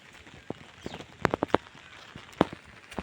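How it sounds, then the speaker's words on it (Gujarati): Light rain falls on a farm field, soft patter with a few louder close drips and taps standing out over a steady faint wash. "તો અત્યારે તો વરસાદ આવ ધીમો છે"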